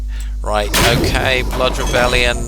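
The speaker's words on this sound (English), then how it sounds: "we just nuked them" A booming nuclear explosion in the strategy video game 9 Kings, a heavy rumbling blast with crackling debris that rolls on under someone talking.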